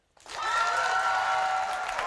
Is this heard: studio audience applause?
yes